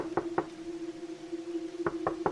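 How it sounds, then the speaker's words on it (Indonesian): Late-night knocking on a house's front door: two quick raps, a pause of more than a second, then three more raps, fairly soft over a low steady hum. "terdengar ada ketukan di pintu depan rumah"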